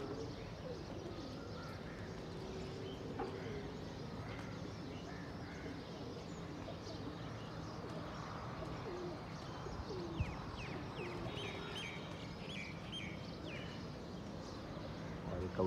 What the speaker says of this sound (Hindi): और एक कबूतर आ रहा है